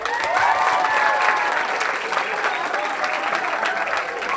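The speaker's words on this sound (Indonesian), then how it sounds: "Sekali lagi tepuk tangan, Nak." Students clap together at a civic education gathering with a regional legislator, loud sustained applause throughout, a few voices blending into the crowd noise.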